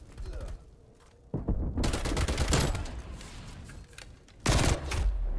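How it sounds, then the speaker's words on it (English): Bursts of rapid automatic gunfire ring out in a Call of Duty game, a quieter volley first, then longer, louder sustained fire and a final sharp burst. "Just hear a gunshot."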